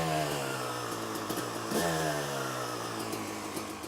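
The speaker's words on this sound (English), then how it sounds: "just kind of move that idle speed up a little bit and down a little bit, just to make sure that the engine doesn't run at one constant speed" A freshly rebuilt two-stroke dirt bike engine idles steadily during break-in, its buzzing note dipping and rising as the throttle is nudged up and down. The engine runs close and continuously, with no voices over it.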